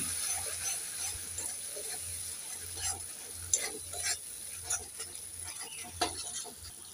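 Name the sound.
stirring green chillies frying in pan for koi fish curry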